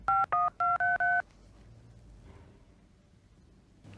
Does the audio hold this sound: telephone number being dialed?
yes